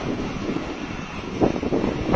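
Steady outdoor wind rumbles and buffets the microphone throughout, with a few stronger gusts near the end, around a burning gasoline camping stove.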